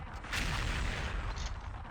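A fire gun blasts in the shooting video game XSHOT, a harsh burst of booming, roaring discharge that carries for under two seconds, loud and close.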